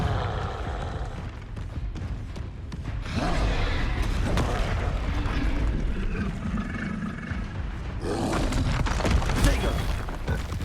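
Repeated spell explosions in Hogwarts Legacy, the Confringo fire spell bursting in booming, crackling blasts mixed with game sounds and mechanical clatter, with louder bursts partway through and near the end.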